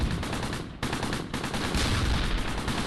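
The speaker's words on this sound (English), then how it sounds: "And Jill, maybe put some rounds in this side just to make sure it's clear." Small-arms and machine-gun fire in Close Combat Gateway to Caen, a WWII battle in Tourville in June 1944, crackles in rapid bursts with near and distant shots overlapping, loud and continuous, with no voices over it.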